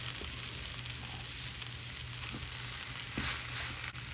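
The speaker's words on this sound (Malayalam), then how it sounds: "ഇതിലേക്ക് നമുക്ക് വേവിച്ച് വെച്ചിരിക്കുന്ന ചക്കയിട്ട് ഇളക്കാം." Cooked jackfruit goes into coconut oil with browned shallots for a Thrissur-style jackfruit stir fry, making a faint steady sizzle with a couple of stirring scrapes, no voices.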